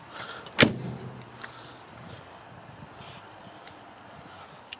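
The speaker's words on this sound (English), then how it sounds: "Let me close this door over here." The door of a 1947 Kaiser Special car swings shut with one loud, sharp slam up close, then quiet outdoor ambience follows with a few faint clicks.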